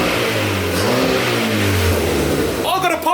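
A Ford Fiesta MK6 fitted with a new Powerflow exhaust revs loudly up and down through a throaty, rising and falling engine note, with a voice chiming in near the end.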